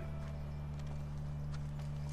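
Horse hooves clip-clop at a walking pace in The Last of Us Remastered video game, an even rhythm of fairly soft hoofbeats over a steady low drone with no talking.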